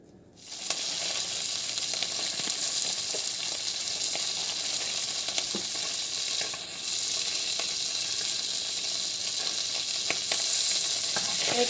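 Steak frying in a hot pan gives a steady, close, bright sizzle that runs unbroken throughout with small crackles and pops, no voices.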